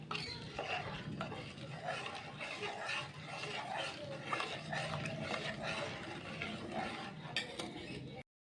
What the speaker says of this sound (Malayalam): ഇനി ഇതെല്ലാം കൂടി നന്നായിട്ട് മിക്സ് ചെയ്തിട്ട് നമ്മൾ അടുപ്പിലേക്ക് വെക്കണം